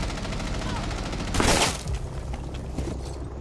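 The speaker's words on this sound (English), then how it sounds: "They're shooting in through the windows in the room." Gunfire from Rainbow Six Siege shooting in through the windows of a room: sustained rapid shots with a louder crash and burst in the middle, while a voice talks over the shooting.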